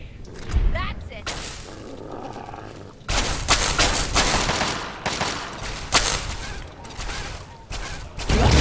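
Fallout 3 combat gunfire: loud shots and bursts ring out in uneven clusters, with a sharp blast around the middle, mixed with game noise and a player talking over it.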